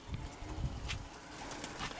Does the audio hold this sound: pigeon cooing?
yes